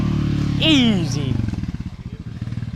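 Engine of a Honda Pioneer 500 side-by-side fitted with a long-travel kit, driving near muddy ground, a steady low rumble rising and then pulsing under a voice talking.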